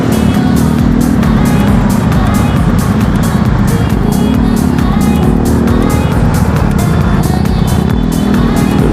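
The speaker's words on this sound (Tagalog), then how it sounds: "Grabe traffic pala talaga ngayon." Heavy road traffic on a congested city route, a loud continuous roar of car engines and tyres close by with pulsing surges as vehicles move past.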